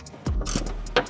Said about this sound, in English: we unscrew directly from the frame rail